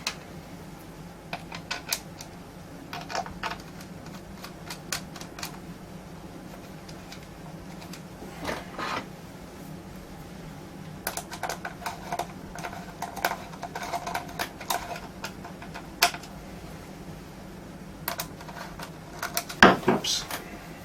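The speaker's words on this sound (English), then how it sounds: "I'm going to stick a couple of screws in this just to hold it for the time being." Screws being driven by hand into a panel on an S4000 mixing console, giving sparse ticking and clicking taps over a steady low hum, with a sharper clatter near the end.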